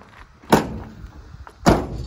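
Two solid door slams of a 1973 Dodge 200 3/4 ton 4x4 pickup truck about a second apart, each a sharp thunk fading quickly, with quiet background between them.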